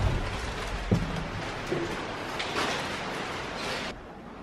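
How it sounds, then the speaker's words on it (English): Light rain drizzles on a rooftop window of a fifth-floor room, a soft, steady hiss of patter close by with a couple of faint knocks, no one speaking. "Some people can't sleep with the rain on the window and all that."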